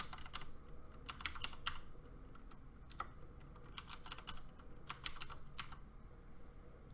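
Someone types on a computer keyboard in short bursts of quick, crisp key clicks separated by brief pauses, close and fairly quiet, with no talking.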